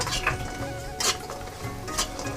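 Lentil dumplings (bori) fry in oil that was just used to fry fish, giving a steady close crackle and sizzle with a few sharper spatters and occasional stirring clinks.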